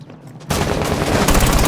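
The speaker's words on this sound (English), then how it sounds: "Just go towards the shooting." Rapid gunfire in the tactical shooter Rainbow Six, a loud, dense burst of automatic shots that starts abruptly after a brief quieter moment and continues to the end.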